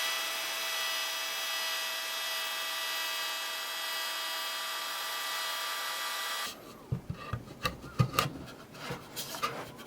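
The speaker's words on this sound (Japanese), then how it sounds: "あとほんの一皮だけ削っていきます。" A router or power tool whines steadily while trimming a thin layer from a wooden workbench mortise, then cuts off into sharp, close hand-tool scraping and knocks on wood.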